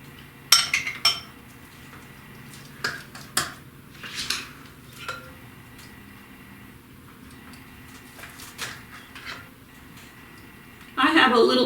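A spoon scraped and tapped against a bowl of pumpkin chocolate chip muffin batter, several short clinks and scrapes spaced irregularly, close and moderately loud, with a louder burst of clatter at the end.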